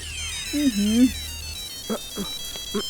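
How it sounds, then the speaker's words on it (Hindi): A mobile phone ringtone plays loudly up close as a bright, warbling electronic melody with repeating tonal bursts, joined briefly by a voice. "अरे ये तो हमारे टुल्लू का फोन है।"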